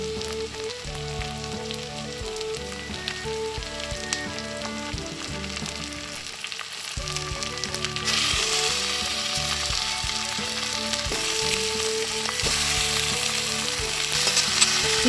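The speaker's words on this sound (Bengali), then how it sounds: "পেঁয়াজের সাথে হালকা করে ভাজা ভাজা করে নিতে লাগলাম চিকেনের টুকরোগুলোকে" Chicken pieces fry with onions in hot oil on a high flame, a continuous close sizzle with occasional stirring scrapes that grows louder and brighter partway through.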